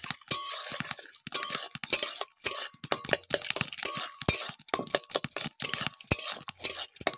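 Beaten egg mixture being stirred in a pan with a nigella seed tempering, quick irregular scraping and clinking of a utensil against the pan over a faint sizzle, close and busy, no voices.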